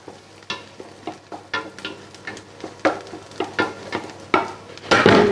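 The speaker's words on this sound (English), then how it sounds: "the onions are getting brown" Browning onions and spiced beef fry in a pot for stew, with a sharp sizzle under a steady run of rhythmic stirring scrapes, each stroke a crisp, close burst, growing louder toward the end.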